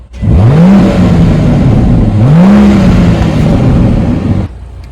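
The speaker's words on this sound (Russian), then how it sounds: "Спортивный двигатель V12." A BMW 760Li's 631-horsepower V12 engine revs loudly twice, rising and falling in pitch, then cuts back to a low idle.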